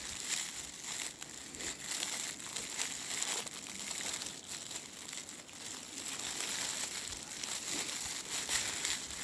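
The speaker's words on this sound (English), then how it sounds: "Fold that Mylar right over on itself." Mylar space blanket folded over on itself and crinkled by hand, a continuous bright rustling and crackling at close range with no pauses, fairly quiet overall.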